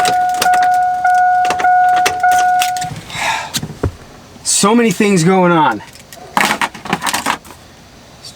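Keys jangle and clatter inside a Chevy Avalanche truck with a dead battery, sharp metallic bursts alongside steady warning chimes, followed by someone talking and more jingling near the end.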